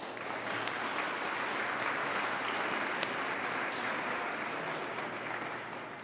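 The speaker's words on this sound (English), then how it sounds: "Please join me in a warm round of applause for all of them." Sustained applause from a City Club audience for its sponsors, a steady, even wash of many hands clapping at moderate distance for about six seconds with no talk.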